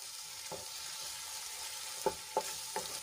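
Spices sautéing in hot oil for a gravy, giving a steady, fine sizzle throughout, with a few soft clinks of a spoon stirring near the end.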